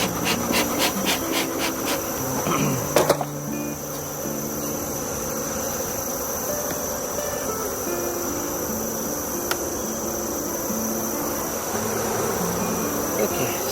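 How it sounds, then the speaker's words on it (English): Honey bees swarm and buzz densely around an open beehive during fall feeding, a steady close drone with individual bees zipping past the microphone, a brief clatter near the start. "Strong populations of bees."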